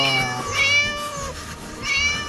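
A cat meows several times in a playful game about rescuing a cat from an angry teacher, with clear, high, drawn-out calls near the start and again toward the end over faint background sound.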